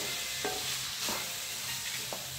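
Semolina (rava) roasts in oil in a pan with a steady, fairly quiet sizzle. About three distinct stirring scrapes cut through it at regular intervals.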